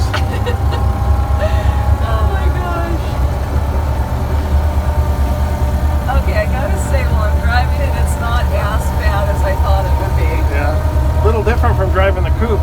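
An original 1929 U.S. mail truck engine rumbles steadily while driving, a loud low drone filling the cabin throughout. People talk over the engine noise.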